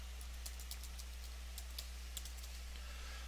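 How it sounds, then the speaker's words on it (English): Fast, light typing on a computer keyboard, a quiet patter of key clicks over a steady hum with no speech. "So I just want to go ahead and type in error message here."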